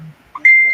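A phone notification ding sounds once, a short bright tone that rings out clearly in a quiet room after a brief soft blip.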